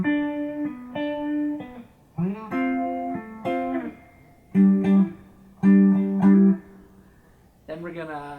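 A guitar plays the chord riff from a song: a series of ringing strummed chord stabs in a bouncy, syncopated rhythm, with short gaps between phrases.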